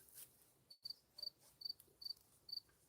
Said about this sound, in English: Maybe that's why I just tuned out the cricket and didn't listen to it.